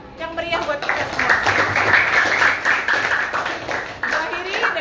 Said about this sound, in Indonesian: Sekali lagi tepuk tangan yang meriah buat kita semua.